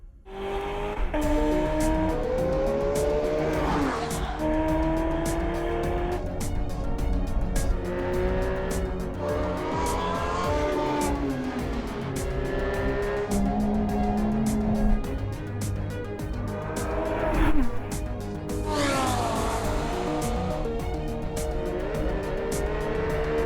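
An Aston Martin V12 Vantage S on a fast racing lap, its V12 engine roaring steadily with repeated rising upshift sweeps and sharp throttle lifts, loud and close throughout.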